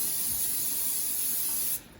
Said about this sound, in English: first I'm going to spray some extra virgin olive oil cooking spray